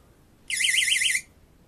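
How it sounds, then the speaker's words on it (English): A cheap dollar store window entry alarm buzzer with a magnetic reed switch, rigged as a moisture detector for a washing machine lint filter, gives one shrill warbling beep lasting under a second, loud and close against a quiet background. "This is a dollar store window entry alarm thing"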